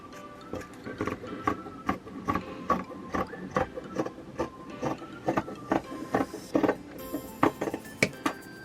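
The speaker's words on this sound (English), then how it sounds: "So you'll take the end of your t-shirt and you'll start cutting." Scissors cutting a cotton t-shirt into 1-inch strips for yarn: a close, steady series of crisp snips and fabric crunches at a regular rhythm, each cut a short sharp burst, with no talking.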